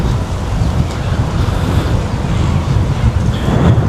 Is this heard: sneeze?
no